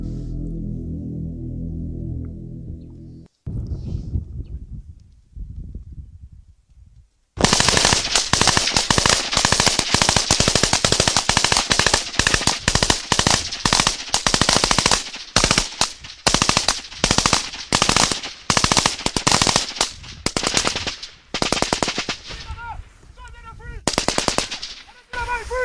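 Heavy machine gun fire in combat in wooded terrain: long rapid bursts and isolated shots crack loudly and repeatedly, close by, with brief pauses, following a quieter stretch of low rumbling.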